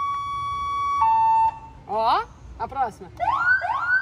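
A seven-tone siren plays through a loudspeaker installed in a car: a steady held tone, then a higher tone, then warbling and rising wails that repeat, loud and close, with a brief voice speaking over it.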